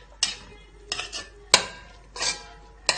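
Onion is stirred in a cooking pot for a Bakleh stew: a spoon scrapes and knocks against the pot in five distinct strokes, close and fairly quiet, with no talk.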